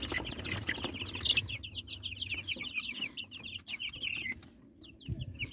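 Twelve-day-old free-range chicks and young roosters cluck, chatter and attempt crows in a busy flock, with short high calls and squawks, some close and some farther off, and no people talking.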